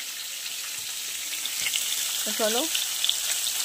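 Fish fries in oil for a Bengali fish curry, a steady faint sizzling crackle running throughout, while a voice speaks briefly near the end.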